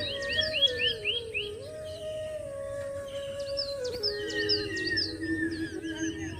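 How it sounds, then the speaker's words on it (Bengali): Birds chirp and tweet in repeated bursts of short calls in a village outdoors, fairly close and clear, over a steady low background hum, with no one talking. "পাখির আওয়াজটা একটু ফিল করে একবার"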